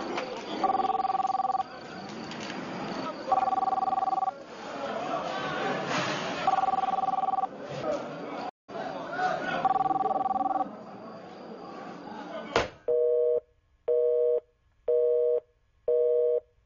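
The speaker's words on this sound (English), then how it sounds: "there's a phone in the White House and it's ringing." A telephone rings in a White House scene of a political campaign ad, repeated trilling double rings over quiet background sound, then a sharp cut to short evenly spaced tones.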